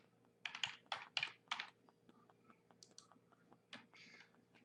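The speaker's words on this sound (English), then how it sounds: "And all I'm doing is typing here." Quiet, close keyboard typing: a quick burst of key taps, a pause, then a few more scattered clicks.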